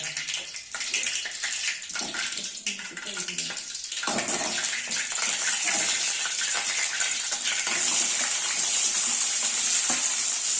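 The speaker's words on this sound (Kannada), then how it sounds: "ಎಣ್ಣೆ ಒಳಗಡೆ ಸ್ವಲ್ಪ ಕರಿಬೇವಿನ ಸೊಪ್ಪು ಹಾಕಿ, ಇವಾಗ ಏನಪ್ಪಾ ಅಂತಂದ್ರೆ ಇವಾಗ ಈರುಳ್ಳಿ ಹಾಕ್ತಾ ಇದೀವಿ" Onions and green chillies frying in oil with curry leaves give a loud, steady sizzle that swells after a few seconds, with clattering stirring and a voice talking over it.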